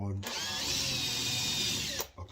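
Power drill driving a drywall screw while a door is being hung, a short whining spin that climbs in pitch, runs about two seconds loud and close, then stops abruptly.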